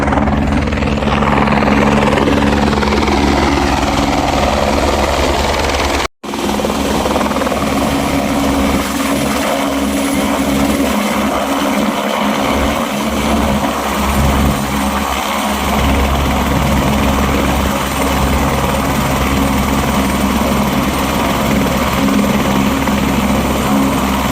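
A loud, continuous helicopter rotor drone at the Kedarnath helipad in the mountains, close and steady, with one brief dropout early on.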